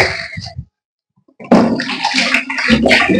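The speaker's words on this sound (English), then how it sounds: "shall pour into our mixing container." Water poured into a mixing container while making liquid soap, a brief splash, then a pause, then a louder continuous gushing pour that keeps going to the end.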